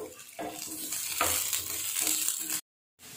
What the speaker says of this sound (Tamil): முள்ளங்கி நல்லா வதங்கிடுச்சு.